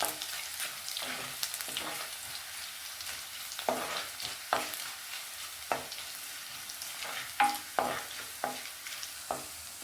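Chopped garlic frying in hot oil in a pan while a spoon stirs it, a steady sizzle broken by repeated scraping strokes, close and alone with no talk.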